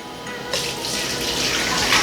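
Strained pumpkin spice hot chocolate made with pumpkin puree pours in a steady liquid stream that starts abruptly partway through and runs on without break, close and moderately loud, with no talking.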